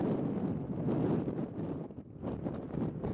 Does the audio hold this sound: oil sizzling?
no